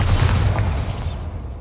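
A deep, rumbling Bombarda spell explosion from Hogwarts Legacy, loud and close, with heavy low-end boom that lingers and slowly fades over a second and a half, no voices.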